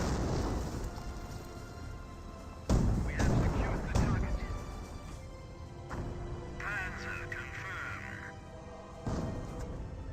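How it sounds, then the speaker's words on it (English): Mortar rounds land in a Company of Heroes World War II battle, striking an airborne squad: deep booming blasts and rumble amid ongoing combat noise, with a voice talking over parts of it. "this airborne squad is getting annihilated by the mortars"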